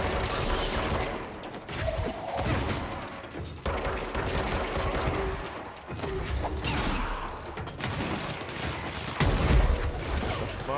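Gunfire in the video game Control comes in dense, rapid bursts that are nearly continuous across the whole stretch, loud and harsh, with short gaps between volleys.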